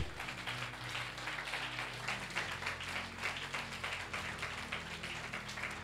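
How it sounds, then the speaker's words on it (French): A church congregation applauding together, a sustained dense wash of clapping hands at steady volume with an underlying hum, and no distinct voices. "acclamons la parole de Dieu"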